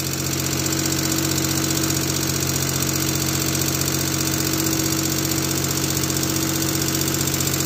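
Geo Metro engine idling after repair of a stuck-shut fuel injector, a steady, close mechanical hum with a fine rhythmic knock and buzzing tones, unchanging and alone throughout.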